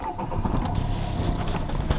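A used car bought for 2000 złoty is started with a push button, and its engine runs as a steady, close, low rumble through the whole short stretch.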